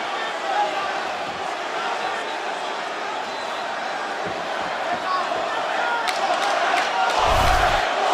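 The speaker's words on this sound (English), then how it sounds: "Now the crowd get behind Masvidal." A dense arena crowd roars steadily throughout a Jorge Masvidal versus Nate Diaz fight, swelling louder near the end with a burst of shouting, with background commentary voices mixed in.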